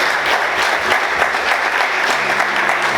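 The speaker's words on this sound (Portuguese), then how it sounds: "Vamos aplaudir Jesus bem forte" A church congregation claps strongly during a service, with a broad and steady wash of hands close by. A faint murmur of voices sits underneath for about three seconds.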